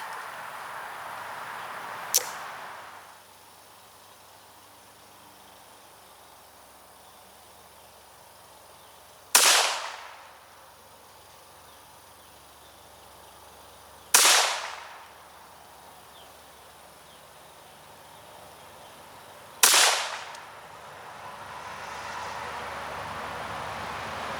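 A Browning Buckmark .22 pistol fires at a target with a faint first shot and then three sharp, widely spaced cracks, each followed by a brief decaying echo outdoors.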